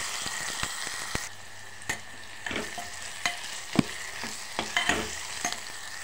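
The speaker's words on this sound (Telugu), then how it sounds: "జింజర్ గార్లిక్ పేస్ట్ కాసేపు వేగినవ్వాలి" Ginger garlic paste fries with onions in a pan for an egg and drumstick curry. It makes a soft, steady sizzle, broken by sharp scraping clicks of stirring at irregular intervals, with no voice.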